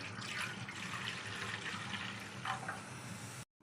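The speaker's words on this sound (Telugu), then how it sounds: "స్టవ్ మీద కళాయి పెట్టుకొని రెండు గ్లాసులు మజ్జిగ పోసుకోవాలి" Buttermilk poured from a glass into a pan on a stove, a soft, continuous splashing pour that lasts about three seconds and then stops abruptly.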